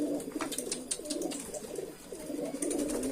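A male racing pigeon coos in courtship, a steady run of soft, throaty, rolling coos close by with light rustling underneath, and no talking.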